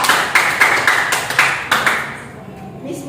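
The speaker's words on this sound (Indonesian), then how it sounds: "Berikan tepuk tangan dulu." Students in a classroom clap together in a series of sharp, evenly spaced claps, about nine in quick rhythm, fading into near quiet at the end.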